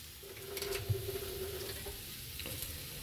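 Cooking cream is poured and stirred into a vegetable curry in a frying pan, giving a steady close sizzle with soft scraping and stirring sounds, no talking.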